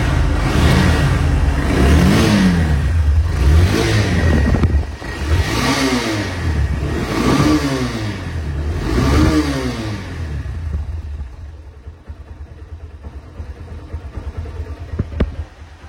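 A second-hand ELAHI double-disc motorcycle engine running loud and close, revved in repeated rising and falling surges before dropping back to a rough idle.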